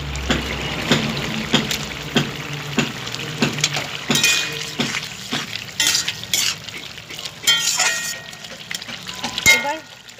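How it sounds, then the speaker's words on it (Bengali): Fish dropped into a pan of greens and potatoes cooked with little oil and no spices, giving sizzling and stirring clatter with sharp utensil knocks against the pan while a person talks throughout. "এবার মাছ দিয়ে দেবো"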